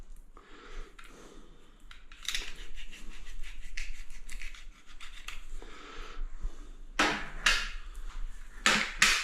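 Scissors or a blade cuts through a silicone tube just below its metal fitting, giving irregular rasping, snipping and rubbing bursts, close and fairly loud, with sharper crunches toward the end.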